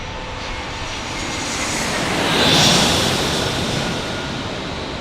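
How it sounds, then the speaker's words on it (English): A jet airliner flies past an airport in San Diego, its engine roar building steadily to a peak midway and then easing, loud and broadband with no voices. "Is this our JetBlue from JFK, or is this Minneapolis Minneapolis Delta?"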